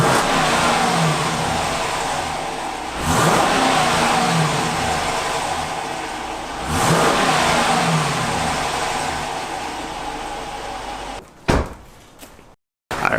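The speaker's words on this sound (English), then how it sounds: "Alright, we got the revs." A Jeep Grand Cherokee engine revs twice in strong rising bursts, each followed by a long fading settle back to idle, then a door slams and handling clatter follows before the sound cuts out.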